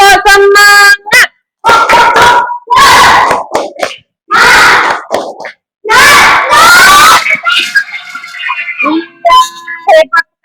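Classroom of children doing the tepuk semangat spirit chant, loud rhythmic shouted bursts separated by short pauses, close and energetic, ending with a few scattered voices.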